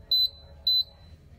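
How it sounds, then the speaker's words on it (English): Go Go Elite Traveller mobility scooter warning beeper giving two short, clear, high-pitched electronic beeps in quick succession, close and alone against a quiet background. "That beep is an indicator that something's going on."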